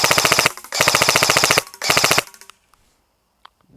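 An ASG Scorpion Evo airsoft gun firing on full auto in three rapid bursts, each a fast, even rattle of close, sharp clicks, with brief pauses between and a quiet tail afterward.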